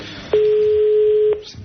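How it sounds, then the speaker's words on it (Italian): A telephone ring tone sounds on a radio broadcast as a call to a guest goes unanswered, one steady loud tone lasting about a second, cut off abruptly, with room noise around it. "Niente, squilla ancora."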